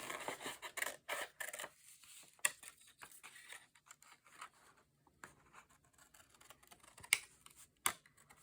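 Scissors snipping paper for a junk journal, several close, uneven cuts with short pauses between them, quiet in between.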